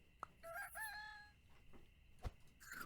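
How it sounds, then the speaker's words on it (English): A chicken crows in the Super Auto Pets video game, a short synthesized cock-a-doodle-doo with clear rising and falling notes, followed by a brief thump and a later chime. "Oh, the chicken."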